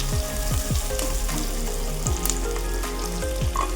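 Onions frying in ghee inside a pressure cooker for cooker biryani, giving a steady, close crackling sizzle with a few clinks and scrapes over a low background hum.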